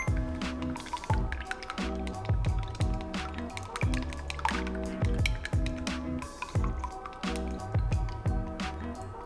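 Wet, squishy squelching of ingredients being mixed by hand, a steady rhythm of soft sticky pulses with light drips, close and continuous.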